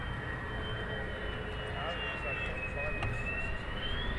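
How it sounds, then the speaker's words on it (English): A steady, high jet whine from Lockheed F-35 fighter jets starting up at RAF Lakenheath, heard at a distance with a thin tone that slowly dips and rises over a constant rumble. "by the sounds of it, F-35s have started up"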